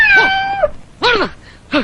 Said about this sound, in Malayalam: ഒരു കണ്ടം പൂച്ച കുറുകയല്ല കാലിൽ തന്നെ ചാടി കയറി.